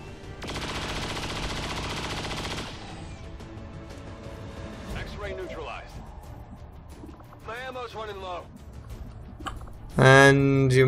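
Gunfire in XCOM 2: a sustained automatic burst rattles for about two seconds, followed by scattered game effects and voiced chatter, then a loud sharp blast near the end.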